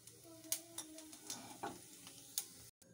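Cumin seeds dropped into about four spoonfuls of hot oil crackle and sizzle faintly, with scattered sharp pops and light stirring clatter over a steady frying hiss.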